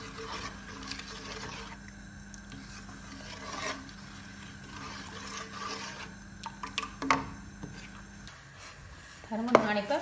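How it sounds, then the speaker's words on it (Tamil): Thick thothal mixture gets stirred and scraped in a pot on the stove, a soft, irregular rasping close by with a few sharper knocks toward the end. "கை விடாமல் வடிவாக கிண்டி கொண்டு இருக்கணும்."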